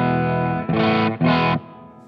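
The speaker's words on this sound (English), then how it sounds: "My guitar with P90s clean sounds like this." An electric guitar with P90 pickups played on a clean tone: a sustained chord rings, then two more chords are struck in quick succession and each is held about half a second before fading, close and loud.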